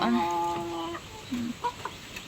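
Chickens on a family's backyard flock cluck in short, close bursts, with a brief squawk early on and scattered soft calls after.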